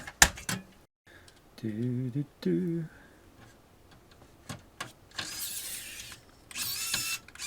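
Screws being driven into an Xbox 360 case, heard as close clicking and ratcheting bursts of a small electric screwdriver whirring in short runs, separated by brief quiet gaps.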